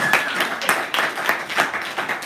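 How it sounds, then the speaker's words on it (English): Audience at an evening teachers' meetup giving a round of applause for a visiting Danish delegation, a short burst of distinct, fairly close hand claps with uneven rhythm. "Round of applause for the Danes."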